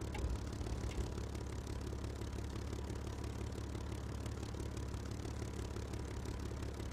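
An aircraft engine in a flight simulator combat game drones and rumbles at a low, steady level, a faint continuous roar with a slight rough vibration and no clear splutter or break.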